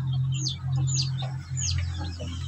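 Newly hatched Shamo chicken chicks chirping in a backyard, several high, thin peeps repeating close by over a steady low hum.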